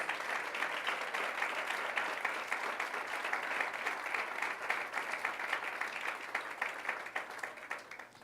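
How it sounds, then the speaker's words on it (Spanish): A church congregation applauds during a sermon, a sustained, fairly distant wash of many hands clapping that carries on evenly and stays alone without speech. "Denle un aplauso a Cristo Jesús."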